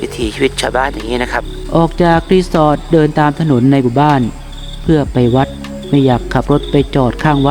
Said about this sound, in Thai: ได้ยินเสียงจิ้งหรีดร้องมาจากทุ่งนาและป่าเล็กๆ